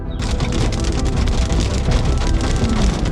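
Heavy rain from a thunderstorm drums steadily and loudly on surfaces, a dense continuous patter with no speech.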